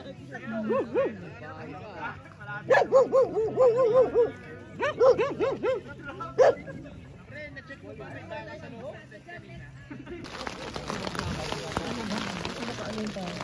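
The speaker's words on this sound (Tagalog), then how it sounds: "Paalisin na nga itong mga aso na to." Dogs bark in several quick, loud bursts while people talk nearby at an overnight campsite on Mt. Ulap, Itogon, Benguet, then a steady hiss of heavy rain takes over.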